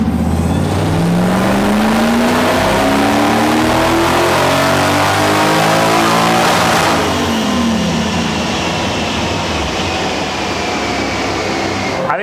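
Supercharged V8 drift truck on a dyno, revving loud and close with a rising, sweeping engine whine that climbs for several seconds, then drops off and settles into a steady roar, no voices heard.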